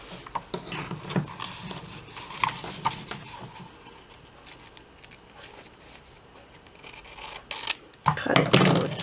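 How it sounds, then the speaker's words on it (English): Scissors cut through a sheet of paper in a handful of crisp snips and rustles, close and clear, with quiet pauses between cuts and a louder burst of snipping at the end. "Cut it so it's the same size."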